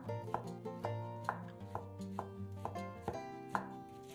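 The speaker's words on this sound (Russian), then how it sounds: "а затем нарезаем их небольшими кусочками." Rapid knife chops slicing crab sticks on a cutting board, about ten sharp hits in a loose steady rhythm, close up, with background music underneath and no talking.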